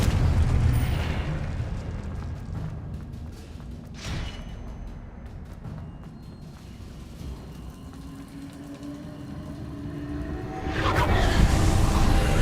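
A Confringo spell explosion in a Harry Potter video game sends out a deep, sustained rumbling boom, with a sharp crack near four seconds and a louder blast swelling at the end, and no voices.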